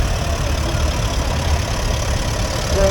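David Brown 30 agricultural tractor with a diesel engine idling at a steam rally, a loud, steady low rumble with a slightly knocking, even beat, heard close and continuous.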